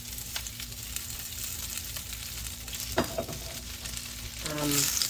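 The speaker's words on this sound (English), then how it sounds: "Now we're gonna add our cabbage." Cabbage for a one-pot meal with shrimp, sausage and peppers drops into a hot pot, and a soft, steady sizzle swells near the end with a brief clatter partway through.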